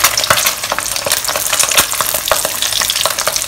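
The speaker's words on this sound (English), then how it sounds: "But I'm doing shallow fry because I don't want to waste too much oil." Egg tofu shallow fries in a pan of oil, a dense, steady sizzle and crackle up close with small scattered pops throughout and no voices.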